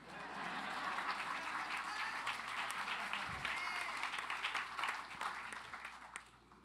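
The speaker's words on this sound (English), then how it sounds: "That's okay, you can applaud" An audience at an event celebrating Medgar and Myrlie Evers applauds for several seconds. The clapping is dense and sustained and fades slightly toward the end.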